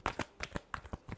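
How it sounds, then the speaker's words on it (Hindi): Tarot cards are shuffled in a short burst of quick papery flicks, close and soft, with no voices. "last shuffle"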